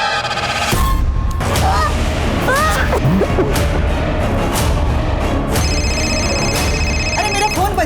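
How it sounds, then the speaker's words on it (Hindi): A mobile phone ringtone sounds during a Holi gathering at home, a repeating tonal ring heard at the start and again near the end over a noisy background of voices. "अरे मेरा फोन बज रहा है"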